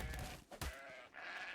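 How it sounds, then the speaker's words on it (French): A sheep in the video game Ark gives a couple of nasal, wavering bleats up close, with game ambience around them. "Il faudrait que je trouve un mouton."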